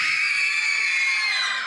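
Party crowd at a Christmas party screaming together to vote for a Christmas tree, one loud sustained high-pitched shriek of many voices lasting the whole moment.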